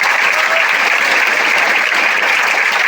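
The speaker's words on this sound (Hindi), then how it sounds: "उनके लिए जोरदार तालियां बजाएं।" Loud, dense audience applause at a student award ceremony honouring toppers in Bihar, a steady wash of many hands clapping close by with no pauses.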